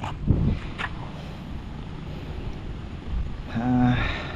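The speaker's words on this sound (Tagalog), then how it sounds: "lakas ng hangin galing po dito" Strong wind buffets the microphone with a steady low roar among orchid plants, gusting louder near the end while a voice briefly sounds through it.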